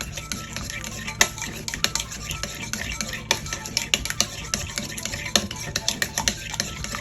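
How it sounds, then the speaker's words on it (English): A utensil mixes buffalo shrimp seasoning with onion powder in a bowl, giving repeated quick clinks and scrapes in an uneven rhythm, close and clear, with no talking. "Mix this all together."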